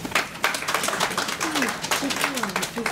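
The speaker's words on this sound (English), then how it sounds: "Round of applause for her." Attendees at an Edo women's conference in Dallas applaud a speaker with lively, uneven clapping, and voices talk and call out over the applause.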